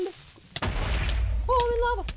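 A creeper blows up in a Minecraft-style survival game, a sharp pop followed by a rumbling boom that lingers under short game tones.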